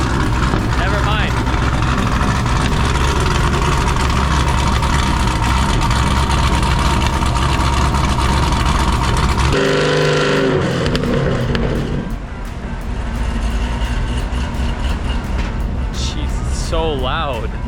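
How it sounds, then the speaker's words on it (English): A Chevrolet Camaro ZL1 engine cold-starts on a dyno, a loud, steady roar that dips briefly and then settles back into a heavy, continuous rumble, with voices talking in the background. "Well, I think this is a cold start, so."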